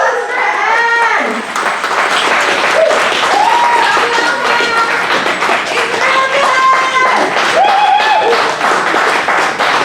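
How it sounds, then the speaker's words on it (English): A crowd at a poetry slam claps and cheers in a sustained round of applause, with voices calling out and talking over the clapping throughout. "Give me a round of applause for Ed!"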